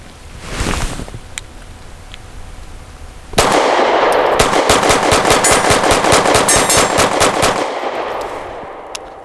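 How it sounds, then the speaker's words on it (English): Rapid strings of pistol shots from a Grand Power P1 Ultra fired at steel targets outdoors, loud, sharp reports in a fast continuous burst after a couple of isolated shots, with faint metallic rings between. "I'm going to try to burn it down so we can see how the gun runs at speed"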